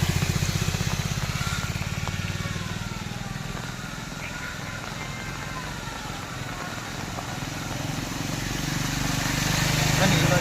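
A motorcycle engine putters nearby with a rough, steady rumble that swells again as it approaches through village flood water, under a wash of running water.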